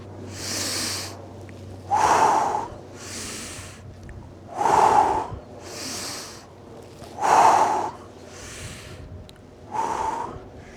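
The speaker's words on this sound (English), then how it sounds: "I'm going to breathe in and out" Deep breaths drawn in and pushed out during a gentle low-impact workout, five or six slow audible cycles, each exhale a loud close breathy rush, with no talking over them.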